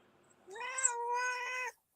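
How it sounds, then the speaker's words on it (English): A house cat gives one drawn-out, clear meow lasting over a second, close by and loud, with a short pause in the middle before the call trails off. "Janice, your cat's here. Say hello"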